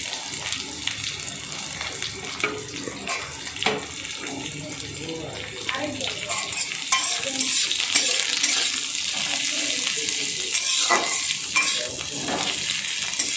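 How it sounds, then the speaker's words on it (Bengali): Onion and four or five garlic cloves frying in oil until reddish, a continuous close sizzle with stirring scrapes and clinks that grows somewhat louder and denser partway through. "এভাবে এটাকে লাল লাল করে আমি ভেজে নিচ্ছি পেঁয়াজ রসুনটা"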